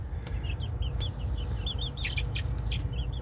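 Backyard chicks about three weeks old, heard as a steady string of short, soft chirping peeps over a constant low rumble of background noise, with no talking.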